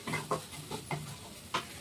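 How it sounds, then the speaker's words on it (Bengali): Onion stalks frying in a pan: quiet sizzling broken by several short scraping stirs at irregular intervals, close by, with no voices. "দেখি আমার পেঁয়াজ কলিটা কেমন হলো, অনেকটা ভাজা হয়ে গেছে।"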